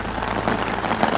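Rain drums on a tarp over a bivouac shelter during a stormy night hike, a close, dense patter of drops with no pauses and no voices.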